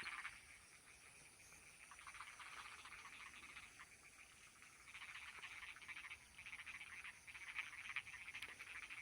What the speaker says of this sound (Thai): ฟังเสียงกบเสียงเคียดครับกลางตรงกลางนา